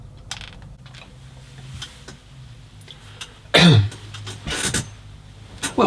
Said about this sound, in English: I coughed to see if it was working on the microphone